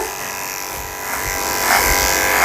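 Electric clippers with a 30 blade buzz steadily while shaving a Pekingese dog during grooming, a close, continuous motor whine that grows slightly louder over a couple of seconds.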